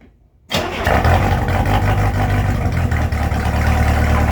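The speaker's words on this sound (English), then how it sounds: "Hopefully this problematic engine starts better than it did before." A problematic speed boat engine cranks and catches after a half-second of silence, then runs loud and steady with a rough, throbbing idle and slight surges in revs.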